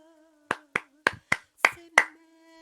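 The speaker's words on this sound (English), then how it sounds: "A round of applause." Six sharp claps in an uneven rhythm over a quiet steady hum, close and distinct, with gaps between each.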